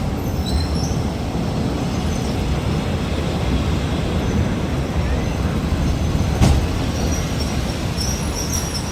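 A train rolls across the Bridge on the River Kwai, a loud, steady rumble of wheels and carriages with a brief sharp squeal near the end, close by and without speech.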